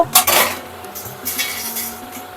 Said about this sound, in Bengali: একটা প্লেটের মধ্যে ঢেলে নেব